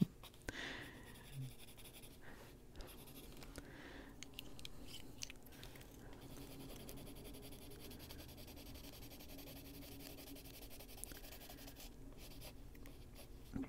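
A Prismacolor colored pencil scratches softly across paper in quiet, irregular strokes close to the microphone, with no talk.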